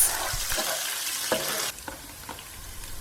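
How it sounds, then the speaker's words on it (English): Ginger garlic paste sautéing in a pan over a medium flame for an Asian pork and green bean stir-fry, a steady close sizzle and crackle with a few stirring scrapes, easing slightly partway through. "we're going to saute this paste on a medium flame till all the aromas are released"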